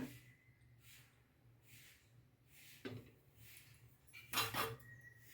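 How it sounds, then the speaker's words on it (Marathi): A spoon clinks against a kadhai as oil is added in a home kitchen, several faint scattered taps and scrapes with one louder metallic clatter near the end, close and quiet, with no talk. "1 चमचा तेल घालूया."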